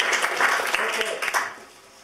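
Audience applause for a group in a university teaching room, steady clapping through most of the stretch that thins toward the end, with voices mixed in.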